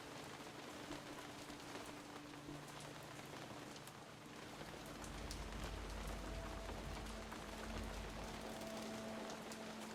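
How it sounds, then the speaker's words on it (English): Steady, continuous rain pours in the video game War Hospital, set in a WW1 trench hospital, with a soft, even hiss of drops that grows slightly fuller and heavier midway, with no talking. "I guess I do like these cozy rain sounds."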